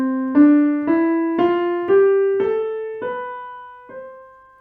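A rising scale of seven pitched musical notes played one after another at a steady pace, each struck clearly and ringing briefly before the next, alone and moderately loud.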